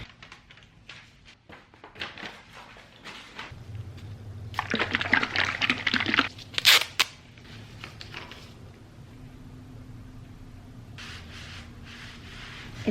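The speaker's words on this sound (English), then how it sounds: "If I just pour a tiny bit there, you can see how liquidy it is." Liquid is poured in short bursts onto an old wood stove, giving a brief splashing trickle, faint and close, amid quiet handling noises and a low steady hum.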